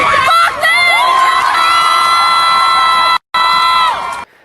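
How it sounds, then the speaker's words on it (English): A crowd in London cheers loudly, a close, continuous wall of shouting and whooping voices with high yells, breaking off for an instant before surging on and then cutting out. "This is the crowd in London."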